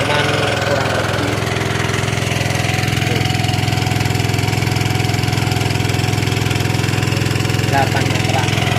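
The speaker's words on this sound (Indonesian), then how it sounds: "mesin Alcon Honda TX1. Kita tes di sumur kedalaman kurang lebih" Honda TX1 diesel engine driving an Alcon water pump at a well about 8 meters deep, steady close idling chug running throughout, with a voice speaking over it.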